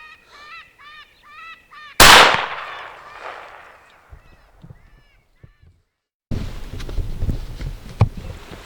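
A single loud rifle shot fired at a coyote-wolf hybrid cracks out after a stretch of goose-like honking calls, then fades into quieter outdoor sounds before a burst of noisy handling at the end.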